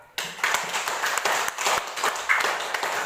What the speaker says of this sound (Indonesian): Mari kita tepuk tangan untuk Arcangela